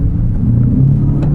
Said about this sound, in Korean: 엔진과 배기 사운드를 강렬하게 전달한다는 것 자체가 상당히 인상적인데